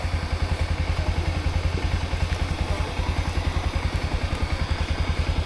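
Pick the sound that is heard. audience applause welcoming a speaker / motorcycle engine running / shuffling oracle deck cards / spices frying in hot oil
motorcycle engine running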